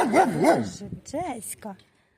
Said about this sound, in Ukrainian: ти вже гавкаєш. Боже, яка страшна собака